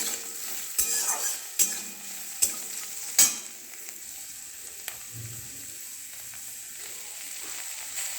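Peas frying in a pan for chicken fried rice, a steady close sizzle with a few sharp clinks and scrapes of stirring early on, then settling into continuous hissing alone.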